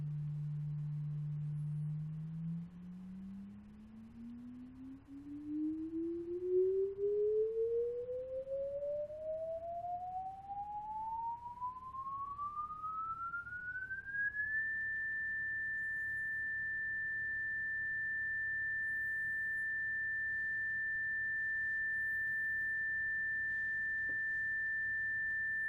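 A pure electronic test tone holds low, then glides smoothly upward in pitch to 1800 cycles and stays there as a steady, clean whistle, with faint background hiss.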